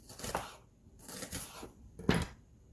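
Knife slicing an onion in half on a cutting board during vegetable stir fry prep, a few soft cutting strokes at close range with a sharper chop near the end, no talking.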